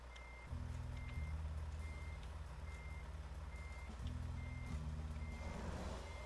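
Game truck in American Truck Simulator reversing, with a steady electronic backup beeper pulsing in evenly spaced beeps over a low engine drone that rises and falls twice, clear and close with no talking.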